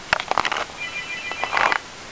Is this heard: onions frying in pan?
no